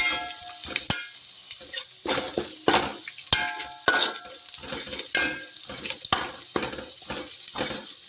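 Tapioca is stirred with turmeric powder in a pan, a steady run of scraping, rustling stirring strokes over a soft sizzle, close and fairly loud with no talking.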